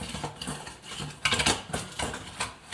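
Metal utensil stirring milk in a pot while lye is slowly added for handmade mother's milk soap, giving repeated scraping and clinking strokes at a steady, unhurried rhythm, close and moderately loud.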